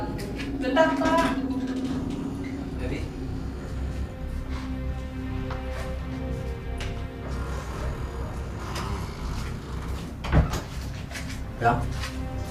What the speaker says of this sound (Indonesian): ini cuma ngerapihin lemari aja